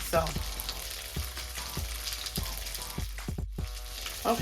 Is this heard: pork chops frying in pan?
yes